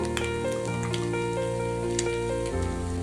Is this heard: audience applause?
no